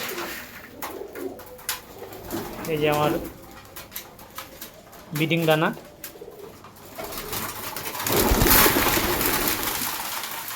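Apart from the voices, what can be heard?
pigeons cooing while feeding on breeding grain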